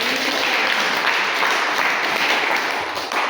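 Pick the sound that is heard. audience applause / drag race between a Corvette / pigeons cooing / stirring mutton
audience applause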